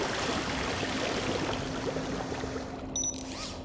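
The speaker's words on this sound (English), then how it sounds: "Commencing spray. Please stand back." A machine in the game Beyond a Steel Sky sprays water in a steady hissing rush, with a faint hum under it and a short high chime near the end.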